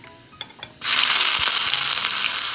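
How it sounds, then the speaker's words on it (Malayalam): Small onions dropped into hot oil for a Kerala fish curry: a couple of faint clicks, then a sudden loud, close, hissing sizzle that holds steady to the end. "ഇനി നമുക്ക് ഈ ചെറിയ ഉള്ളിയും കൂടെ ഇട്ട് കൊടുക്കാം."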